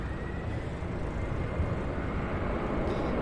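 A three-year-old Delta Airbus A220-100 arriving from Boston roars steadily overhead on approach to land at Cincinnati's CVG airport, a broad, continuous jet rumble with no talk.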